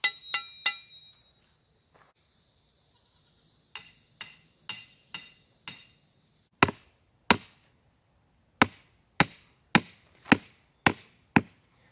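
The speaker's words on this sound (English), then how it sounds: "We're going to have to use a sledgehammer." A sledgehammer drives a metal electric fence post into the ground, sharp ringing impacts in short bursts of three, then four, then two and six, with quiet gaps between the groups.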